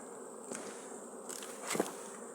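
Honeybees buzz steadily around hives in a Carpathian apiary in September, a soft continuous hum with a few brief louder swells, no voices.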